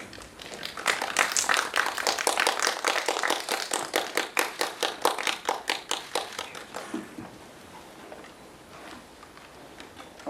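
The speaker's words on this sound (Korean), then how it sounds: "큰 박수와 함께 환영 부탁드립니다." An audience at a film press conference gives a burst of loud, rapid applause welcoming an actor, dense clapping that tapers off after about seven seconds into a quiet room.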